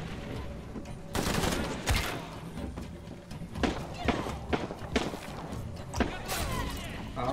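Gunfire in the video game Shadow of the Tomb Raider: several sharp shots ring out at irregular intervals over continuous game ambience and background noise, moderately loud.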